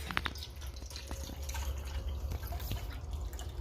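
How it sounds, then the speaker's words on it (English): Buttermilk drains through a strainer into a pan while butter is being made, a continuous trickling pour with scattered drips against a low background rumble. "So we're pouring out some buttermilk."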